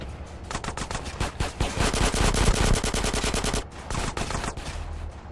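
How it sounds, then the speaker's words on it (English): Rapid automatic gunfire in GTA San Andreas Definitive Edition, dense loud bursts of machine-gun shots that run for several seconds, pause briefly, then resume at a lower level. "We ain't wasting ammo on these Josh Sotos."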